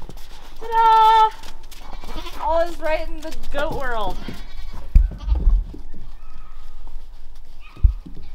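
Breeding goats bleat loudly and repeatedly as they are separated, several drawn-out wavering calls close by, followed by scuffling, thumps and quieter farmyard sounds.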